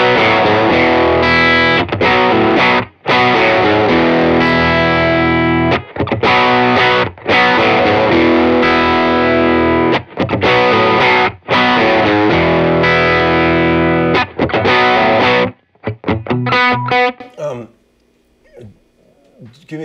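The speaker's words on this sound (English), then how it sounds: "this one's a set for a Tube Screamer, so I know you want to listen to that" Electric guitar riff played through a Tube Screamer overdrive pedal: loud, driven chords repeated in chopped bursts with short gaps, then a few scattered notes ringing out and fading at the end, with no talking over it.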